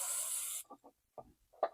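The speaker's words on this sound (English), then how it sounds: "let me spray off some of this debris with carb spray" Carb cleaner sprays from an aerosol can into the carburetor jet of a surging Toro snowblower, a loud steady hiss for over half a second, then stops, followed by faint clicks and small handling noises nearby.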